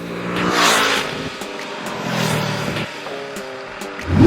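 A Brixton Crossfire 500X motorcycle engine revs and swells in waves, rising and falling in pitch as the bike accelerates, fairly close and loud, with a final surge at the end.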